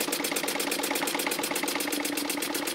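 Elmers wobble-plate steam engine running on compressed air, giving a fast, even chuffing of exhaust pulses that repeats steadily and close by, with no voices.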